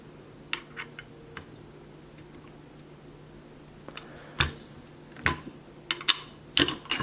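Metal pins are pushed out of a disassembled AR-15 rifle, giving sparse clicks and sharp metallic snaps, close by, growing louder and more frequent toward the end.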